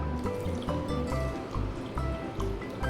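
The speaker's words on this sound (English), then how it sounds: "with this, we put in a little water" Water poured into a pot of sliced mango for mango pachadi, a steady trickling and filling splash with a soft rising gurgle, close and continuous, with no talk over it.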